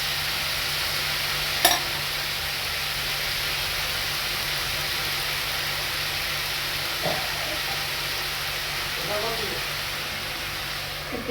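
Fish eggs and morisa greens steam-frying in a pan without water, giving a steady soft sizzle and hiss throughout, with a few faint clinks of utensils.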